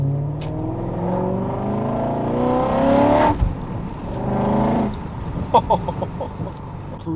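A straight-piped BMW M5 E39 revs up loudly, then drops off into a string of sharp exhaust crackles and pops as the engine settles near the end.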